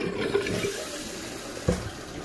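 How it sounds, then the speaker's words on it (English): A short flush on a Pegasus dual-flush toilet, repaired after a broken handle cable, gives a brief rush of water with a clunk near the end, close by and steady. "So we're gonna do the short flush."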